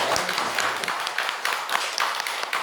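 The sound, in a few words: applause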